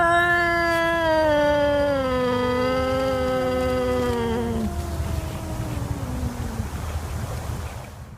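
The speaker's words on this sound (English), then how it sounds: "Now next we have a howl or a yowl sound." A cat lets out a long, loud howling yowl whose pitch slides downward, with a second drawn-out wail trailing off into quiet background hiss.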